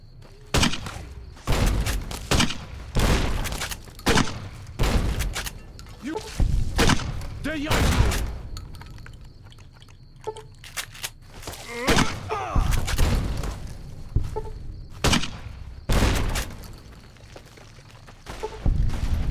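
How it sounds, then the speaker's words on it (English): A grenade launcher lobs grenades in Fallout: New Vegas, giving a long series of heavy thumps and booming blasts at uneven intervals, mixed with other gunfire, with voices speaking in between. "let me grab my grenade launcher again, and I'll just start lobbing grenades down there"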